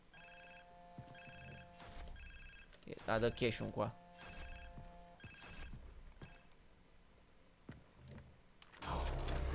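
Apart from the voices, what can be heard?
telephone ringing in the video game Far Cry 3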